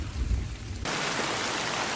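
A thunderstorm in the woods with rain pouring down. A low rumble of thunder comes first, then a sudden loud, steady wash of heavy rain hisses close by and keeps going.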